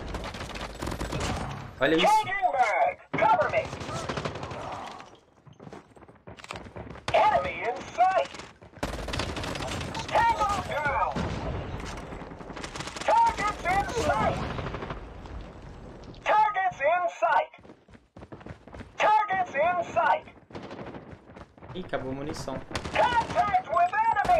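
Rapid bursts of MAC-10 submachine gun fire in the mobile shooter Call of Duty Mobile, several quick volleys spread across the stretch with short gaps between them, mixed with other game effects while someone talks over the action.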